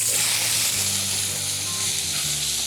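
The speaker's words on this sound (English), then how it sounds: "I'm going to cook the chicken." Marinated chicken sizzles loudly in hot oil, a continuous bright crackling hiss with some low clatter of a pan, close and steady.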